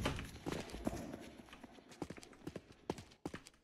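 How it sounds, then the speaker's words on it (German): Footsteps in the survival horror game The Killing Antidote, a series of faint, sharp steps at an uneven pace, quiet and somewhat distant, with no other sound around them. "Ich habe Schritte gehört."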